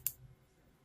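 A single sharp computer mouse click while working in Photoshop, quiet and close, followed by near silence with a low background hum.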